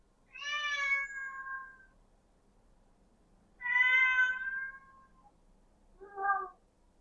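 A domestic cat meows insistently at a door on a building landing, three distinct cries separated by pauses, the first two long and drawn out, the last short, close and clear in a quiet space.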